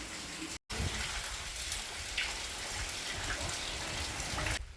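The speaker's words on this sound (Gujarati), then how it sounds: "વરસાદે હાઈ ક્લાસ પડ્યો" Heavy first-season downpour, a dense, steady roar of rain falling close by, broken by one brief cut near the start and otherwise unbroken.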